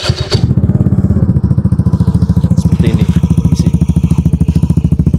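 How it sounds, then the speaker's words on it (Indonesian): A TVS Callisto Astro 110 scooter with a modified racing exhaust idles with a loud, rapid, throaty exhaust putter, steady and close, while a voice briefly speaks over it. "Kita coba nyalain gimana suaranya dengan knalpot yang sudah dimodifikasi oleh Smoke Garage."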